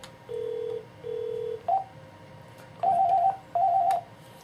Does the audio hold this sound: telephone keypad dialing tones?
yes